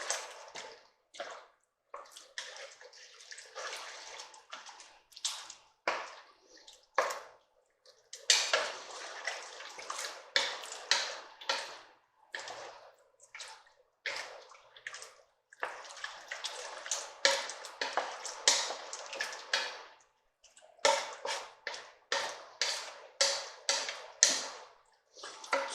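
Chili made with beef roast is stirred together with its seasonings in a pot, giving repeated wet squishing scrapes and spoon-on-metal clinks in irregular bursts with short pauses between them, close and fairly quiet.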